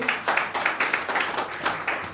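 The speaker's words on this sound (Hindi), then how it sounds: "एक बार जोरदार तालियां इस मिशन के लिए" Audience clapping at a pre-launch event for a health mission, a short burst of fairly faint, uneven applause from a crowd lasting a couple of seconds.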